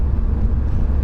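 Car fitted with a MAPerformance intake and turbo, a steady low engine rumble that stays loud and close throughout a short stretch, with no talking.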